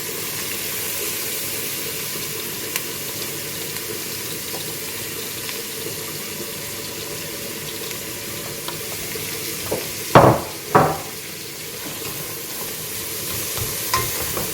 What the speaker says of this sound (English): And I'm going to let that saute a little bit.